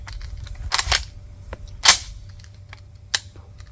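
Johnson rifle firing rounds with hard primers after light primer strikes: three loud, close gunshot cracks spaced about a second apart, with small mechanical clicks in between and no voices.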